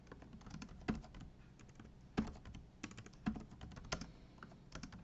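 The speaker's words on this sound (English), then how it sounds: "Wow, my typing was so bad." Fingers type on a computer keyboard, a quiet, irregular patter of key clicks with a few sharper taps standing out, close by and with no voices.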